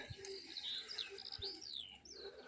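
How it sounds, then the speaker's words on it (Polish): Small birds chirp and trill outdoors near a racing pigeon loft, bright warbling phrases rising and falling over a quiet background, with a few soft low thumps. "Ptaszek śpiewa"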